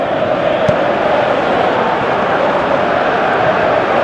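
Steady, dense roar of a football stadium crowd at a Manchester United versus Manchester City match, a constant wash of massed voices that holds level throughout with no clear chants or individual shouts.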